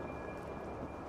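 Steady, monotonous rain falls outside a dark tatami room at night, an even close hiss with no distinct thunderclap.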